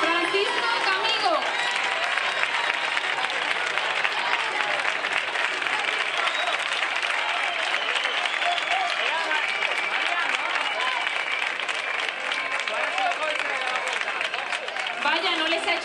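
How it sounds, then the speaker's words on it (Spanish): A crowd at the Linda y Guapo Maracas 2007 beauty pageant applauds contestant number 12 with steady, dense clapping and cheering voices that fill the room for the whole stretch. "no les ha hecho falta que les pida el aplauso"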